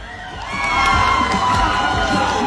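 An audience at a Mr. Right 2024 pageant show cheers, whoops and claps for a contestant, a loud crowd swell that builds quickly and holds, with children's shouts mixed in.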